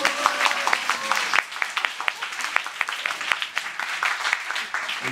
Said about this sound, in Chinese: 你们这种不热烈的掌声更伤害人家的心